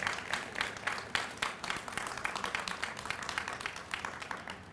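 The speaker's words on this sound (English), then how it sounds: "that's worth some applause" Applause from an audience at a county government announcement, a thin, moderately quiet spread of clapping hands with distinct individual claps standing out, continuing evenly without voices.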